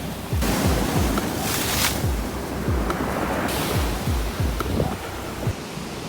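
Ocean surf on the Lost Coast in December surges loudly over a tidal zone, with waves washing and hissing up close and repeated low thumps from the breaking water. Wind rumbles across the microphone throughout.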